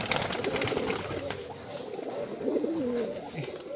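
Geribaj flying pigeons coo softly in low, rolling calls, repeating over a steady background hum with a few faint clicks early on.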